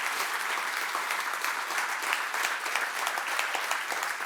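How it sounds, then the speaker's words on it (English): An audience at an annual meeting and legacy celebration applauds steadily, a dense wash of many hands clapping at close range that carries on without a break and without speech. "Let's give these folks a round of applause."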